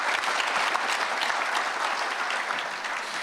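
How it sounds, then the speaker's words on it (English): Dense, steady audience applause at a mayor's prayer breakfast, a warm, continuous roar of many hands that slowly tapers toward the end, with no one speaking over it. "if we can give them one more round of applause"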